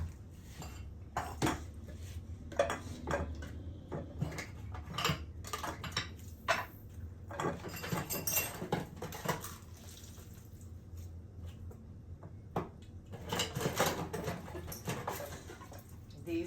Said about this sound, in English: I'm going to be washing my dishes.